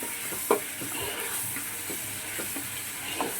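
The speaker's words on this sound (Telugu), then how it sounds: "అల్లం వెల్లుల్లి పేస్ట్ వేసి బాగా వేసుకోవాలి." Minced mutton with ginger garlic paste sizzles softly in a pan while a spoon stirs and scrapes, giving faint, irregular taps over a constant frying hiss, with no speech.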